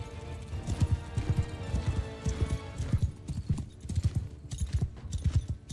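Horses of mounted troops galloping in Mount & Blade 2: Bannerlord, a dense rhythmic clatter of hooves, close and loud, with a faint whinny, under a low battle din.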